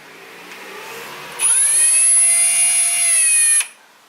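A power drill with a 5.5mm bit whirs up suddenly to a high steady whine for about two seconds, then cuts off, over a quiet background hum.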